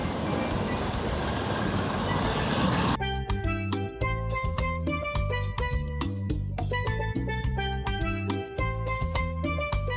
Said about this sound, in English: these people going crazy with these golf carts